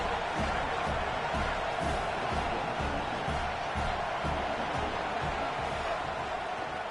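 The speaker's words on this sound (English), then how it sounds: "This crowd knows when to bring it." Stadium crowd in an American football video game roars in a steady, dense wash of cheering throughout, loud and continuous with no clear breaks.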